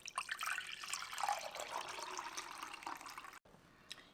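Sugar water drained from salted cucumbers is poured steadily into a container, a continuous splashing trickle that cuts off briefly near the end before a last small splash.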